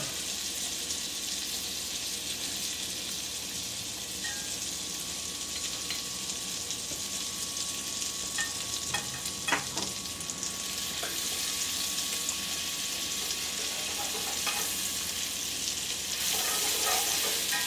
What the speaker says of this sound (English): While butter's melting, we're going to add 2 cloves of garlic.